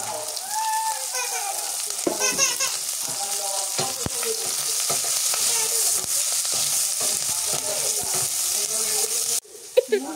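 Green chillies tossed into a pan of frying village-style mirka fish curry with brinjal and radish, giving a steady loud sizzle with stirring scrapes throughout and a brief pause near the end.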